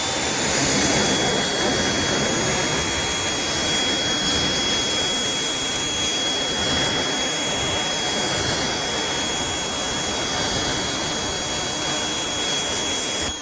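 Steady pressurized water spray rinsing soap off a car with a C6 ceramic coating, a continuous loud hiss held close throughout with no talk.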